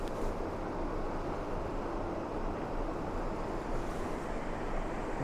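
A waterfall at Rydal Water in the English Lake District, heard from a bridge nearby as a steady, broad rushing roar of falling water with a breezy outdoor wash, continuous and moderately quiet, with no voices.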